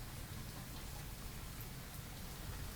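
Heavy rain pours down across the city of Ambala, a steady, dense hiss of drops that stays even from start to finish with no voices over it.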